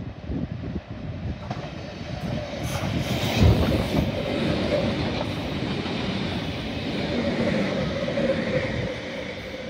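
A V-set electric passenger train on the Sydney network passes a station platform, a steady loud rumble with rhythmic wheel clatter and rail noise building and holding throughout.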